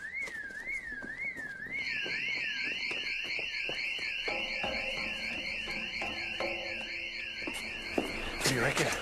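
An audible warehouse alarm wails in a fast warbling tone, then switches to a steady high pulsing beep, with quiet voices and clicks underneath.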